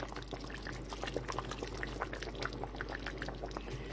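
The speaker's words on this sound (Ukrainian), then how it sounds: "І от за ці 10 хвилин я доливаю 100 грам оцту." 100 grams of 9% vinegar pours into a simmering pot of pickled beans and vegetables in tomato sauce, a steady close liquid pour over the bubbling of the preserve, continuous for a few seconds.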